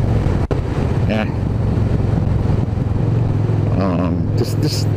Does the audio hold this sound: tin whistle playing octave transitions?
no